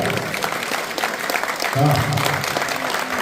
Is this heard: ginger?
no